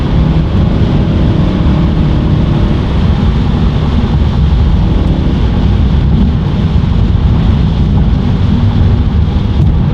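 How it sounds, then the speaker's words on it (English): Steady broadband wind roar inside a moving BMW E39 M5 cruising at about 55, a constant loud rush with low road rumble and no break throughout. "The wind noise is a bit."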